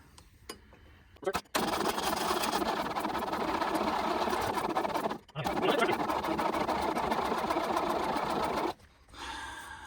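An abandoned old Volvo Amazon engine runs with the choke fully on, a loud steady mechanical drone that briefly cuts out around 1.5 seconds, dips again near 5 seconds, and drops off toward the end.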